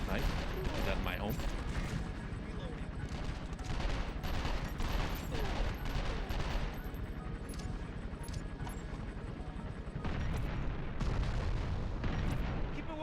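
Rapid gunfire and an explosive going off in 24: The Game, dense volleys of sharp shots and thuds repeating through the whole stretch, loud and close over game ambience.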